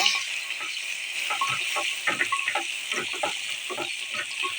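Small shallots and garlic cloves sauté in hot oil in a pan for a Tamil cowpea curry, giving a steady sizzling hiss broken by frequent stirring scrapes and clicks close by.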